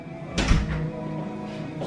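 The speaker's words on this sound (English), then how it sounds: "She's gonna walk through the door right now." A house door opens as someone arrives home, giving a single close thump with a brief rattle, followed by a low, steady room hum.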